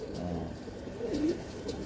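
Pigeons in a Punjabi pigeon-keeping setting coo softly and continuously at mid distance, a low warbling murmur that rises once near the middle, with faint background noise.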